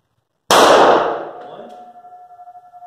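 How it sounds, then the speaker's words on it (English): A single sharp handgun shot cracks loudly and close during a pistol reload drill, then rings out and decays over a couple of seconds. "So we're just going to take a couple shots."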